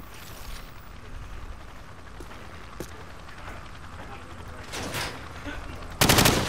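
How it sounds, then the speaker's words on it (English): Rifle fire from the hip in Call of Duty 4, mostly scattered single shots under ambient game noise, ending in a loud close burst of rapid fire. "shoot at the targets while firing from the hip"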